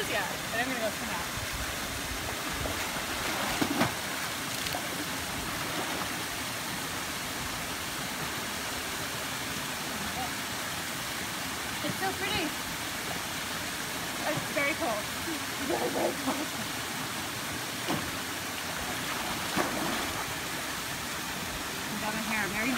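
Hermit Falls on the Chantry Flats trail pours in a steady broadband rush of falling water, constant and fairly close, with people talking over it.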